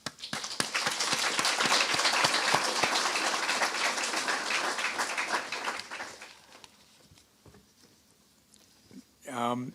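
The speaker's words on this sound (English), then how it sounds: "I would like to give a big hand of applause and congratulations to them" Audience at a 2023 graduation ceremony applauding, dense clapping for about six seconds that tapers off to quiet, followed by a brief sound at the end.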